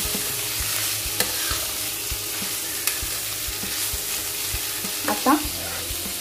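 Bitter gourd sabzi stirred and frying in a pan on a low flame, a continuous soft sizzle with occasional spoon taps and scrapes against the pan, close by and without speech.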